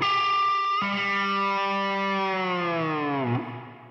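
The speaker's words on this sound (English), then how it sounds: "to the open G for a dive bomb with the tremolo arm" A sustained electric guitar note is struck, then a tremolo-arm dive bomb to the open G swoops the pitch steadily downward into a deep, growling dive before cutting off.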